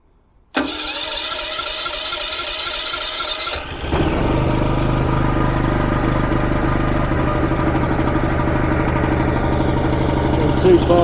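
Bohmer-AG 6500W portable petrol generator cranks with a sharp start, then settles into a loud, steady engine drone that rises slightly in intensity as it keeps running close by.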